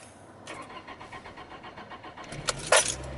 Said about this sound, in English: for that first test I start my car